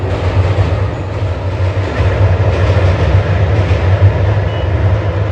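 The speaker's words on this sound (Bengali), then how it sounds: "এই রকম একটা ট্রেন যাচ্ছে সুন্দর এই যে ট্রেন চলে যাচ্ছে" A train rolls past on the Sealdah–Ranaghat railway line, a steady loud rumble with low wheel clatter and rail noise that holds at full strength throughout, with no voices over it.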